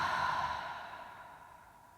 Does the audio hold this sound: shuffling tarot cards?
no